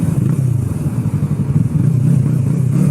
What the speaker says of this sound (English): he couldn't control his motorcycle